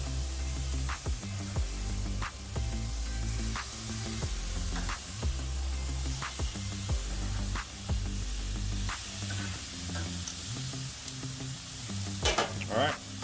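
Carne asada steak sizzling on a grill: a steady, loud hiss and crackle throughout, with a low rhythmic background hum and faint scraping near the end.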